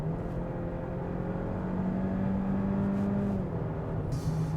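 A Kia Sportage 1.6T 2WD engine drones inside the cabin under acceleration, a steady hum with a rising engine tone that climbs then drops, heard without talk.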